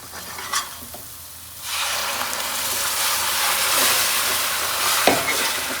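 Masala frying in a pan as tomato puree is added, giving a steady close sizzle and hiss that swells loudly after a quieter start, with a few sharp scraping stirs and no talk.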